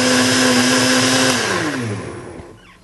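A powerful blender whirs loudly as it mixes the ingredients for a Russian penicillin home remedy, a steady high motor whine that winds down and fades out.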